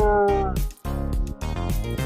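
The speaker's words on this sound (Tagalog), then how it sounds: "istorbo yung pusa natin" A pet cat meows repeatedly and insistently at close range, loud drawn-out cries in quick succession with brief pauses between them, heard indoors in a home kitchen.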